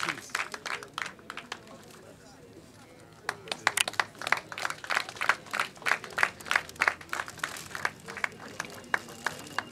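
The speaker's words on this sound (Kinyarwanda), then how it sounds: "Amashyi menshi" Crowd applauding at an outdoor community ceremony in Kinyinya sector, dense clapping that builds after a few seconds into sustained, fairly distant applause, with a voice speaking over the start.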